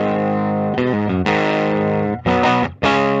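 A 2022 Reverend Jetstream 390 electric guitar played through its bridge pickup with a heavily distorted tone. It rings out several loud sustained chords with short breaks between them and no talking.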